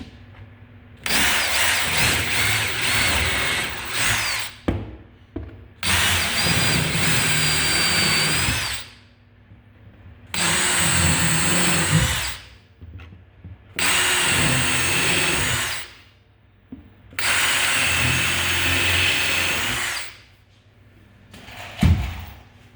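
Power drill driving screws into a face frame cabinet being assembled, the screws going into the floor dado: four long bursts of whirring and grinding separated by short pauses, loud and close, with no talk.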